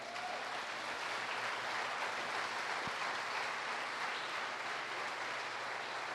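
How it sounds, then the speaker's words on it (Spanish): A church congregation gives a strong round of applause, a steady wash of clapping that stays even throughout at moderate volume with no one speaking. "Yo que usted me animaba y le daba un fuerte aplauso."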